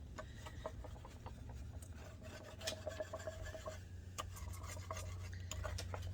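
Paper letters being scraped off a shadow box surface with a tool handle, producing a steady gritty rasping with repeated short strokes at close range, no talking.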